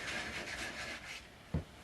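Wet sanding finish into a wooden gunstock in circular strokes gives a steady, soft, gritty rubbing hiss at close range, ending with a single dull thump.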